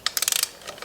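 Torque wrench ratcheting a bolt on a GY6 150cc scooter engine during a big bore kit install, a quick burst of about seven sharp clicks followed by a couple of softer ones, close up and alone.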